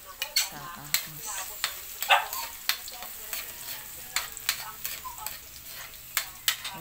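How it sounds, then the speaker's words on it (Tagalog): Garlic sautéing in a pan, a light steady sizzle beneath repeated sharp scraping and tapping strokes of a spatula, recurring at an irregular rhythm and heard up close with no voices. "gisa sa ahos"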